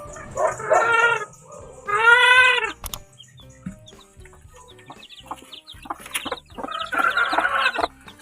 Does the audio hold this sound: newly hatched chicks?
yes